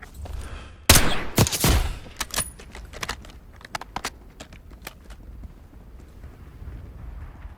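Gunfire in the shooter campaign Call of Duty Black Ops 6: a loud close burst of shots, then a trail of sharper scattered cracks and clinks fading into quieter ambience.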